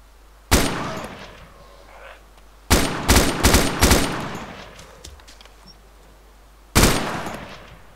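Gunfire in the video game DayZ as a player shoots at zombies: three bursts of loud, close shots, a single crack, then a rapid cluster of several shots, and a final sharp shot, separated by quiet gaps.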